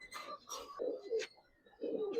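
Giribaz and coloured pigeons at a market coo in several soft, throaty bursts close to the microphone, separated by short pauses, with faint chirpy sounds between them and no clear talk.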